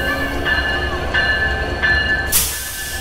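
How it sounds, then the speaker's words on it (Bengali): The Jahanara Express, a Dhaka–Khulna train, arriving at a suburban platform with a steady low rumble, repeated high squealing tones from the wheels or brakes, and a short hissing burst near the end. "আমাদের ট্রেন অলরেডি চলে এসেছে।"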